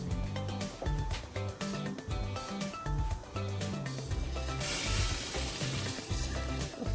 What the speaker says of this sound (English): it's starting to boil, so I'm just going to add the rice at this moment